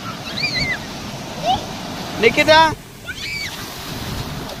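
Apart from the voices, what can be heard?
sea waves at Puri beach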